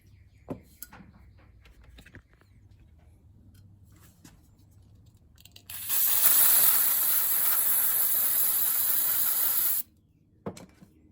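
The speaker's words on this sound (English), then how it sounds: "We're going to take those and clean them up with some brake parts cleaner." Brake parts cleaner sprayed onto bolts for a Husqvarna 2100XP chainsaw, one loud continuous hiss of about four seconds close to the mic, preceded and followed by light clicks and handling taps in a quiet room.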